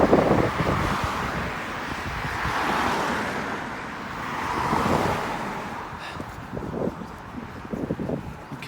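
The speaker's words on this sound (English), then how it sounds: "let's just see if we can get across before this lorry" A lorry passes on a road beside a walker, its engine roar swelling and fading under heavy wind buffeting on the microphone, with rustling footsteps toward the end.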